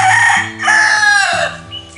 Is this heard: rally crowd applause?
no